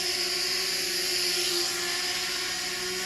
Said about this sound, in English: I've always said the hardest thing to do with a drone is just keep it in the air in a certain place.